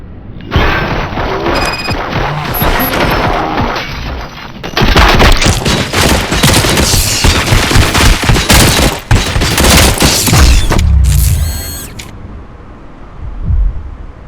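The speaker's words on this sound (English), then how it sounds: "Fire at will." Gunfire in the RoboCop: Rogue City video game breaks out as loud, close, sustained volleys with heavy booms and crashes, then tapers off into quieter rumbling and scattered impacts.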